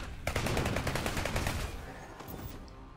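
Gunfire rattles in Seraph as a shotgun fires in a rapid, loud burst of repeated blasts, then tails off into a couple of fainter shots.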